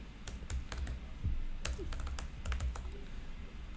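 Quick bursts of clacking keystrokes on a computer keyboard as JavaScript code is typed, irregular clusters of sharp clicks close by with short pauses between them.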